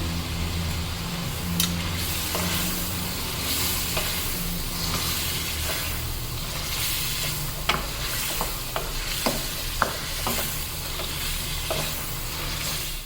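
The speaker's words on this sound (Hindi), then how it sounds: "देखिए थोड़ा सा भून लिया है मसाले डाल के" Spices for Afghani chicken karahi fry in hot oil with a constant close sizzle, broken by occasional sharp clicks and taps of a spoon against the pan.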